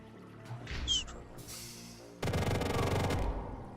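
Automatic weapon firing in the retro-style VR shooter Compound, a dense rapid burst of gunfire in the second half after scattered game effects and a brief whistling tone, loud and sustained.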